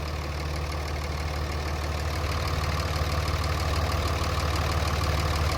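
A Dodge Ram 3500 long bed 4x4 with a 5.9 Cummins diesel and six-speed manual idles steadily up close, a constant low rumble with a faint rapid knock running through it and no voices.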